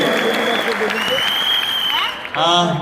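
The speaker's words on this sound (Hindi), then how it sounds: "एक बार जोरदार ताली हो जाए दोस्तों इन लोगों के लिए" Audience applause at a Vestige achievers' anniversary event in Kolkata, a steady wash of clapping under amplified music and a voice speaking over the hall, swelling briefly near the end.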